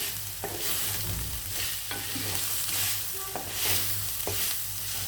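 Raw potato pieces fry in a pan for mint rice, giving a continuous crackling sizzle broken by a few stirring scrapes and knocks.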